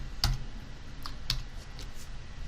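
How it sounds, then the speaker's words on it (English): Light key clicks on a computer keyboard as Shift and period are tapped repeatedly, a few crisp, faint taps scattered over a couple of seconds in a quiet room. "hit Shift period a few times on the keyboard to grow that selection"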